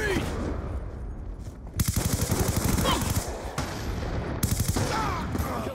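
Rapid bursts of shotgun and automatic gunfire in Call of Duty Black Ops 2, loud and close, with crisp repeated shots in two clusters over continuous game noise and background voices.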